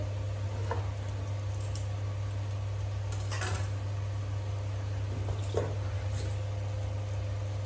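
A knife chops a soft eggplant into small pieces, giving a few faint, scattered taps against a cutting board over a steady low hum.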